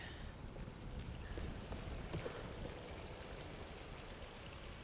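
Steady water streaming down the stone surface of a statue in the Tomb Raider video game, a continuous broadband splashing rush with no pauses, moderately close and even throughout.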